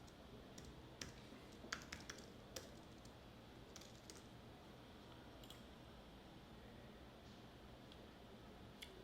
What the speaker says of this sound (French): je tape comment gagner de l'argent